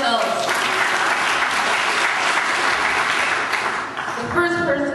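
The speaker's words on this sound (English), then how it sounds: "so applaud yourselves." Audience applause at an evening political gathering in Seattle: a dense, loud, sustained roar of many hands clapping, with crowd voices mixed in, easing slightly near the end.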